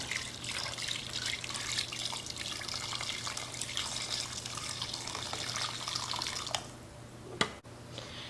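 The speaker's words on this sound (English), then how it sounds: "And I'm gonna cover it with the water." Water runs in a steady, close stream into a pot of chicken and vegetables for several seconds, then stops, followed by a single clunk.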